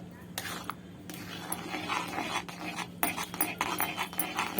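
A spatula stirs a thick raw green mango mixture with bay leaves and Kashmiri chili powder in a pan over a low gas flame, giving soft, irregular scraping and clinking strokes up close.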